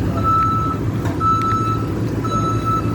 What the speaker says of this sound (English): there's a bunch of tractors and stuff doing road work here